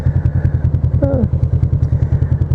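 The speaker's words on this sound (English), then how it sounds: "I'm doing a 2-point turn, which is something that scooters have to do and motorcycles don't." Scooter engine idling with a steady, rapid low putter during a two-point turn, close and fairly loud, with a brief voice-like squeal in the middle.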